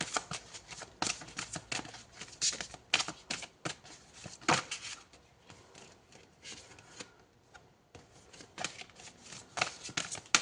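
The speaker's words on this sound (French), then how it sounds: "On va prendre une troisième carte." Tarot cards being shuffled and drawn by hand: a steady run of crisp, papery riffles and slaps, close and fairly loud, with brief pauses and no talking.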